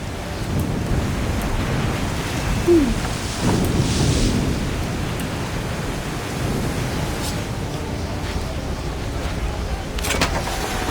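Storm in the video game Assassin's Creed 3, a steady loud roar of rain and wind throughout, with a faint rumble of thunder and no speech.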